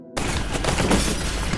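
A dense, continuous burst of rapid gunfire and crackling impacts from the video game Resident Evil Village, loud and close, starting abruptly after a brief quiet moment.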